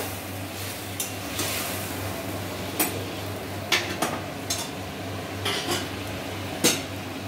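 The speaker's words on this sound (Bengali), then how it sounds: "জল দিয়ে আবার সবজিগুলো ভালোভাবে নেড়ে দিল" Vegetables for sukto are stirred after water is added, with a ladle clinking against the pot in sparse, irregular taps over a steady low hum and a faint wet simmer.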